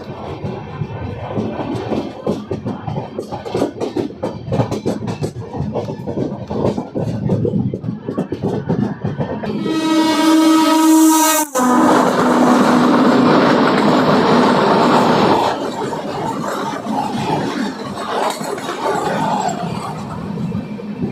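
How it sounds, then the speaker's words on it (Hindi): Danapur–Koderma Intercity Express running on rails after leaving Karauta station in Bihar: a loud, steady rumble with rhythmic clickety-clack, a strong tonal whine in the middle stretch, then continued rolling noise. "श्रमजीवी को पास कराने के बाद हमारी ट्रेन 8:47 में करौटा से अब निकल चुकी है।"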